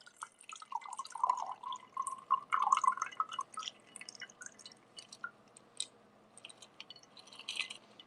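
A chilled bourbon cocktail poured out of a glass, a soft trickle and gurgle of liquid followed by scattered drips and small clinks, quiet and close.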